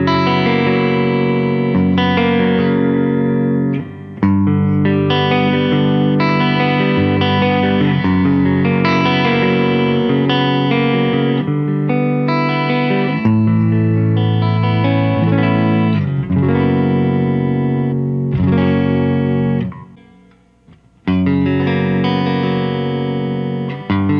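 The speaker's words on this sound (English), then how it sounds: "I'm going to kick on a little reverb." A Strandberg Boden NX7 electric guitar played through a Paul Reed Smith Archon amp with a little reverb rings out in sustained chords and riffs, loud and continuous, with a brief pause near the end and no talking.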